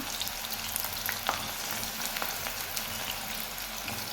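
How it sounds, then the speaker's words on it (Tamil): Cut bitter gourd fries in hot oil in a pan on a high flame. A dense, steady sizzle crackles close up with scattered pops and no talk. "சூடானதுக்கப்புறமா நாம் வெட்டி வச்சுருந்த பாகக்காயை இதில் ஆட் பண்ணிக்கலாம்."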